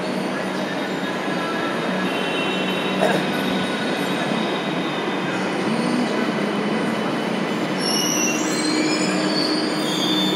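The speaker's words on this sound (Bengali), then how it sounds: "চলো, আমার মেট্রো এসে গেছে।" A metro train rolls in with a loud, sustained metallic wheel squeal over a constant rumble of rails and carriages. Bright screeching tones rise toward the end, and no talk is heard.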